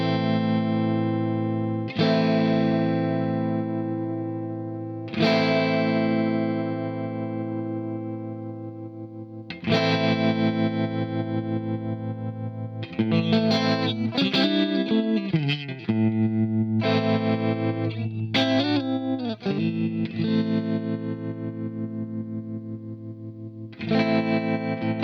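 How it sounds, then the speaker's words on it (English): An electric guitar played through the Universal Audio Astra Modulation Machine pedal on its Tremolo 65 setting, with sustained chords pulsing steadily in volume alongside some quick melodic runs. "in the Tremolo 65 position, we have the tremolo rate, the tremolo amount, and something called LFO shape"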